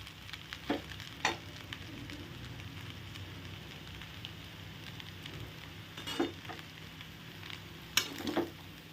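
Ghee set on a metal spatula melts into a hot pan and is stirred. A low, continuous sizzle runs throughout, broken by a handful of sharp scraping clicks at irregular intervals.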